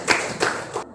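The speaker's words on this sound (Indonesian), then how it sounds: "Tepuk tangan untuk kita semuanya" Three sharp hand claps ring out in a classroom, evenly spaced and close by, with a short quiet tail after the last one.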